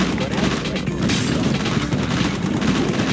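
Dense gunfire and explosions during an attack on a base in Command & Conquer Red Alert 2 Yuri's Revenge, a loud continuous barrage of rapid shots and booms, with a voice speaking over it.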